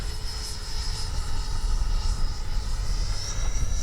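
An FMS 80mm F-86 RC jet on landing approach with flaps down, its electric ducted fan giving a steady, fairly loud whine and rush that holds constant throughout.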